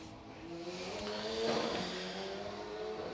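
A Radical Cup race car at Laguna Seca drives past on track, a steady buzzing engine note with whining harmonics swelling as it nears and holding at a moderate distance, no voices.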